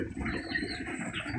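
Pet birds chirp and coo indoors, short faint calls over a steady background hum.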